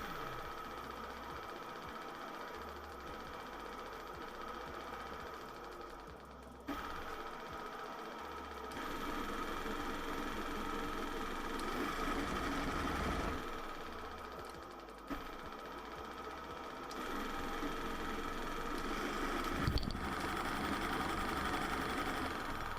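A small electric motor on a Far-Driver controller learning board runs steadily at its low speed setting, a faint, even whir with a soft mechanical hum and occasional slight shifts in pitch, no voices.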